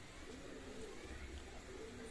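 Pigeons cooing softly among a group of birds, a low murmuring coo that is faint and distant under a steady background hiss, with a voice faintly present.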